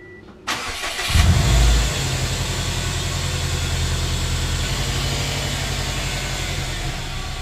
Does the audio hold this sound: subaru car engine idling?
yes